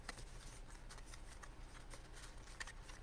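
Paper card-stock basket pieces are handled and folded at close range, producing soft, continuous papery rustling and light flicking crackles throughout, quiet and without talking.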